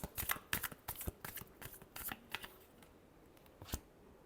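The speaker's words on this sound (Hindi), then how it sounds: "last shuffle" A deck of tarot cards is shuffled by hand, giving a run of quick, crisp riffling and flicking bursts with short pauses between them. The sound is close and fairly quiet, with a final card tap near the end.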